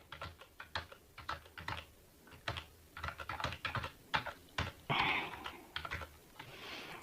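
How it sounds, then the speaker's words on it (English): Fast, uneven typing on a computer keyboard while entering data into an Excel spreadsheet, a close run of crisp key clicks with short pauses and one brief louder burst near the end, no voices. "And then I could just type in my data."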